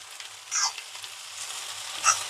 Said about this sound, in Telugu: మనం టీ స్పూన్ పట్టుకొని కలపండి లేదా సరాతంతో అయినా కలపండి